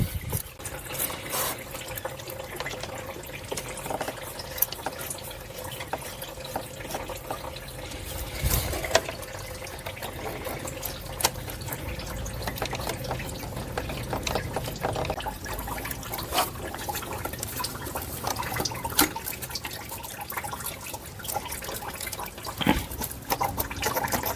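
Coolant drains from a removed hose on an 08 Ford Explorer into a drain pan beneath the car, a steady trickling and splashing stream that runs continuously throughout with no talking.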